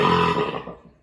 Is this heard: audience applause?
no